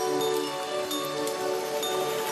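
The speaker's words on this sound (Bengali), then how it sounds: "রাত থেকে দফায় দফায় বৃষ্টি" Continuous rainfall hisses steadily without a break, with no voices heard.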